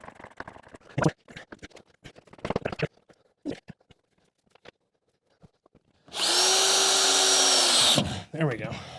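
A power drill whirs for about two seconds, driving a screw into a WhisperRoom sound-booth panel, after a stretch of scattered knocks and handling clatter; another short burst follows.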